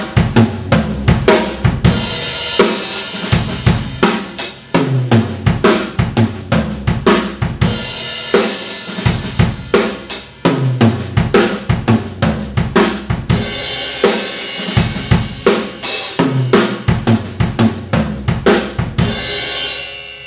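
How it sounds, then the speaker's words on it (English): A steady drum pattern of booming tom hits leading into sharp snare accents, repeated over and over at a brisk, even tempo. "we're going to play the 2 toms and then to the snare"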